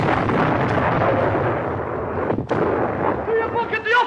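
A gunpowder cannon fires with a loud, long booming blast that rumbles for a few seconds, followed by a short crack and then voices.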